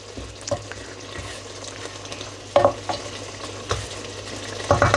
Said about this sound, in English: the ginger garlic frozen cubes, and just give that a stir